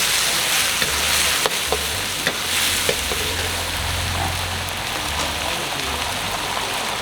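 Continuous loud sizzling and crackling as chicken with cashew nuts is stir-fried in a hot wok, punctuated by sharp clicks of a spatula against the pan.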